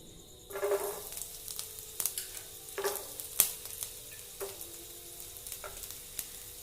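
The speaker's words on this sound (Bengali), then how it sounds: "এবার আমি নারকেলটা ভেজে নেব।" Grated coconut fries in a wok of white oil, a soft continuous sizzle broken by light scrapes and taps of stirring, fairly quiet and close with no voices.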